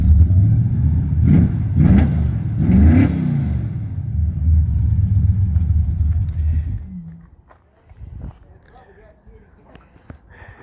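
A car engine, likely heard near a 1966 Chevy in a metal shop, revs loudly for several seconds in rising bursts before dropping to an idle, with a few faint knocks afterward.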